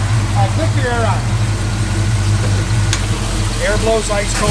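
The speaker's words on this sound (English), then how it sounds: "just a really, really good running 351 Windsor freight engine" A 1949 Ford F1 pickup fitted with a 351 Windsor V8 idles steadily with a deep, even low rumble, close and constant, while someone talks over it.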